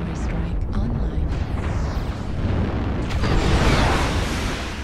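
Artillery strike explosions in a video game, heard as a continuous wash of rumbling blasts and bursts that swells louder toward the end.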